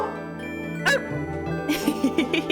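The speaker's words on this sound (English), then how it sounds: "There's a bark redeem that y'all can use to bark at me if you want to." A dog bark sound effect, triggered by a viewer redeem during a Pokerogue game livestream, gives a short yip and then a few quick barks and whimpers over a quiet background hum.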